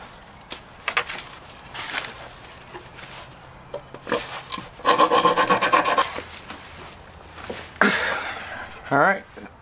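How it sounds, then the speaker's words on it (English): A wood rasp files around the edge of a drilled hole to widen it, producing repeated close, gritty scraping strokes in short runs, with some talking in between. "I'm just going to take a wood rasp around it and try to give it a little more space"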